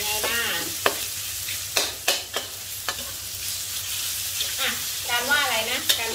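Minced pork stir-frying in a pan, a steady sizzle with scraping spatula strokes and several sharp clanks of metal against the pan, close and alone with no talk.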